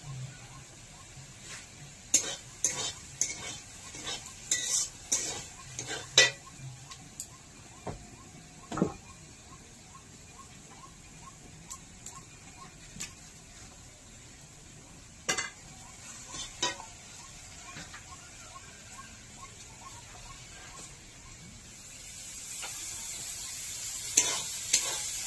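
Leafy greens (shak bhaja) fry in a pan on a village stove, a low constant sizzle broken by scattered sharp clinks and scrapes of stirring, with louder clusters early on and a rising hiss near the end.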